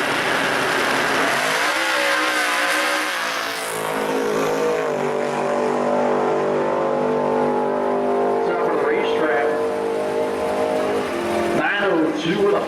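A 1957 Chevy pickup drag racing down a strip at a pro street event, its engine roaring loudly and rising in pitch through the launch, with a voice talking over the noise.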